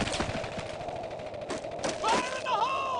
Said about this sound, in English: Taking automatic fire!